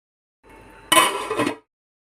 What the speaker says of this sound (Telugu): ఇప్పుడు మూత క్లోజ్ చేసి ఒక 5 minutes కుక్ అవనిద్దాం.